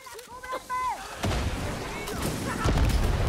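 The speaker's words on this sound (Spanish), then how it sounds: "¡Qué bien están las explosiones" Explosions in the video game Far Cry 6 boom in heavy, rumbling bursts that roll on continuously after an opening of quieter game sounds, loud and close.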